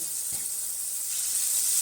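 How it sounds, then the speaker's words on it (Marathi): Water is poured into a sizzling pan of dried ribbon fish curry, making a close, steady hissing sizzle with one soft knock early on and the hiss swelling slightly toward the end. "आणि वरून थोडा पाणी घालू"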